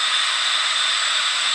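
Jet airliner taking off at Johannesburg O.R. Tambo, heard as a steady broad roaring hiss with a thin whining tone, loud and unbroken throughout.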